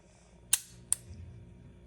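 Two sharp, close metallic clicks from a used handgun trigger being pulled next to the microphone, about half a second apart, over faint background hum.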